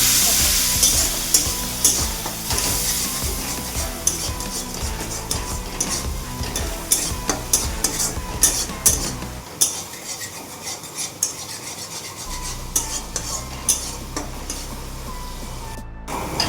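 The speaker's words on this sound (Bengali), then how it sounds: "মশলাটা ভাজা হয়ে গেছে।" A spice paste with a splash of water sizzles in a pan, with constant busy frying noise. Frequent close scrapes and clinks of a stirring utensil against the metal run throughout.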